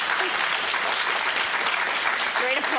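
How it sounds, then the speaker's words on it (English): Dense, steady applause from a panel discussion audience fills the whole stretch, loud and continuous, with a voice briefly surfacing near the end. "Great applause, love."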